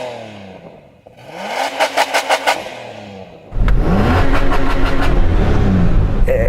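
Nissan Patrol engine revved hard off the rev limiter, a run of five sharp bouncing bursts, then a sustained loud rev held near the limiter, heard close and alone.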